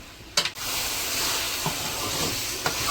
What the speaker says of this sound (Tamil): இப்போ நல்லா ஹை ஃப்ளேமில் வச்சு எல்லாத்தையும் பண்ணுங்கள். கொஞ்சம் நல்லா வதங்கி வரட்டும்.